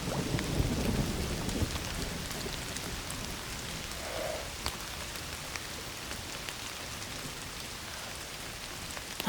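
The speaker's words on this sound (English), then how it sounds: "Don't you love rain?" Steady rain pours down in a video game cutscene from Indiana Jones and the Great Circle, with low rumbles of thunder rolling beneath the constant hiss, a dense and even downpour with no voices.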